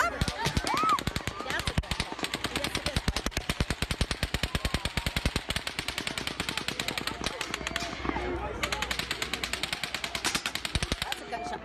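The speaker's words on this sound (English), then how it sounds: "That's a gunshot" Long bursts of rapid automatic gunfire from the Las Vegas massacre, with the popping shots distant but steady, two short gaps between bursts, and frightened voices talking over it.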